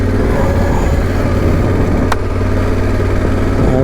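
A motorcycle engine runs steadily and loud at close range as the throttle is twisted on a trail ride, a continuous low drone with one brief sharp click partway through.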